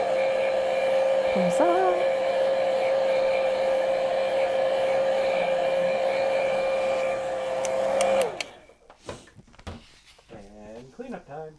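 A handheld dryer blows steadily with a high whine to dry a freshly painted polka-dot teacup, running for about eight seconds before switching off, followed by a voice talking.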